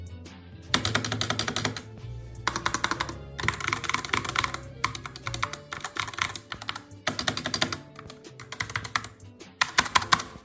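Bursts of rapid clacky typing on a budget mechanical keyboard with stock, unmodified switches, close and crisp, separated by short pauses, with no voices.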